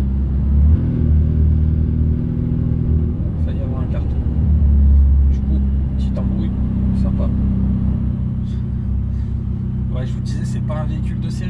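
Steady low engine drone of a Ferrari 488 Pista supercar while driving, heard from inside the cabin with a brief swell of revs, as someone talks over it.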